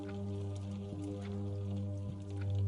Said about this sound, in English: listening to the rain on the windows